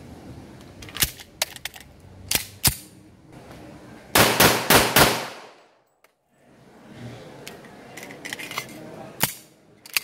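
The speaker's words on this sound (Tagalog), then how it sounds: "Firing!" A Rock Island Armory TAC Ultra M191 pistol fires a string of sharp shots at an outdoor range, single reports then a rapid burst of about five, heard somewhat distant amid faint background clatter.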